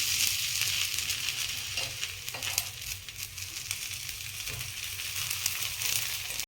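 Methi thepla flatbread cooking on a hot pan gives a steady, moderate sizzle with light crackle and a few faint stirring or scraping touches, continuous throughout with no talking.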